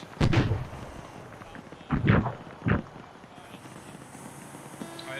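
Artillery fire-mission impacts in the military video game ArmA 3: three heavy, booming blasts, one early and two close together later, each dying away into low rumble, with radio-style voices talking faintly underneath.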